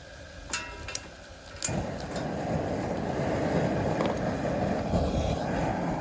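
Propane gas burner of a turkey fryer igniting and running, a steady loud roaring hiss that rises and holds after a few clicks and taps near the start.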